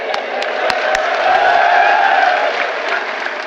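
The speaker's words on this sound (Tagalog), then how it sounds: "Pero Una pa lang may mga crowd reaction na agad siya, ha, di ba?" Crowd at a FlipTop rap battle erupting in steady applause and cheering, a dense wash of clapping and shouts that swells mid-way and holds loud throughout, with a few sharp claps standing out.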